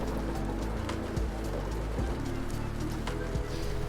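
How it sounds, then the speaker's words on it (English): Steady rain sound effect from a video game, a constant broadband patter with a few sharper drop-like ticks and low thumps running evenly throughout. "I really like the rain sound too, Michael Muto."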